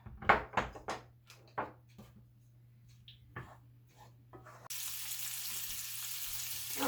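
Sliced sausage discs drop into a frying pan with a few clattering knocks and thuds, then a sudden steady sizzle takes over and holds, close and moderately loud.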